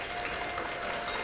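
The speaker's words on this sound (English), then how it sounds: "As you can hear the crowd behind me roar" A crowd roars and claps loudly at a high school basketball game between the Loretto Mustangs and the Community Vikings, a dense continuous wash of cheering.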